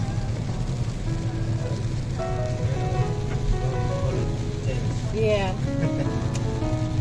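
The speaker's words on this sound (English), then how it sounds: "the rain." Steady rain falls in Doha, a dense even patter on surfaces under people talking nearby.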